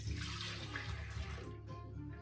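Steady liquid pour of about 2.5 cups of milk into a stand mixer bowl for sheet pan pancake batter, a continuous splashing gush lasting the whole stretch, close and fairly loud with no talk.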